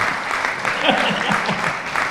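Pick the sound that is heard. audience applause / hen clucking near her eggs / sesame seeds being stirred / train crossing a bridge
audience applause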